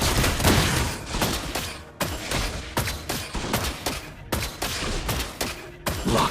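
Gunfire in the mobile game Mobile Legends, rapid bursts of loud shots in an uneven rhythm with short gaps, close and dense throughout.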